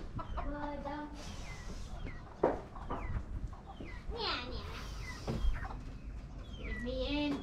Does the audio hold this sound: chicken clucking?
yes